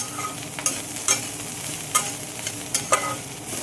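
Jackfruit curry with jaggery being stirred in a pan, giving several short scraping clinks of a spoon against the pan over a low, steady sizzle, close and fairly quiet.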